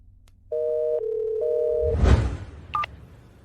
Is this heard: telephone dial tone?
yes